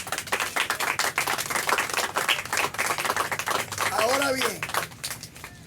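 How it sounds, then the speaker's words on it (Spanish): A church congregation claps steadily in sustained applause, with a preacher's voice speaking over it and a brief musical tone near the end. "Un aplauso al Señor nuestro Dios."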